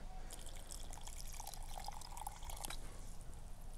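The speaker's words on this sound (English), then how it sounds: "let's pour the water into the top layer" Water pours steadily into a Harbor Freight rock tumbler barrel during the polish stage, a continuous splashing trickle heard up close with no one talking.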